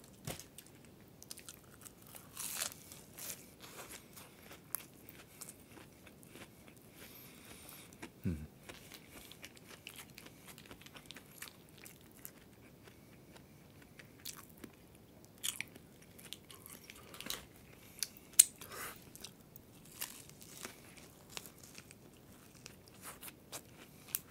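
Fried shrimp being bitten and chewed close up, with soft crunchy bites and steady quiet mastication scattered through a hushed hotel-room meal, no talking.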